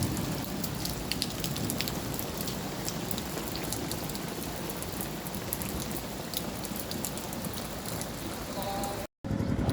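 Dense, steady rain falls in a Bengal village, a close, even hiss of drops on surfaces that continues without pause until a brief cut near the end.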